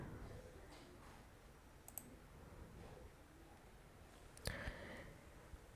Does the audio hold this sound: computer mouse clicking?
yes